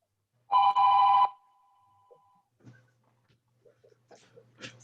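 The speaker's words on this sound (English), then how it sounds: "It's Amazon giving me a fake phone call." A telephone rings with a bright electronic trill in one short burst, then a faint trailing tone, followed by quiet scattered small sounds.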